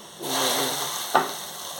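Greens and lentils fry and brown in a pan, a soft, even sizzle rising in after a moment of quiet, with one brief sharp tap near the middle.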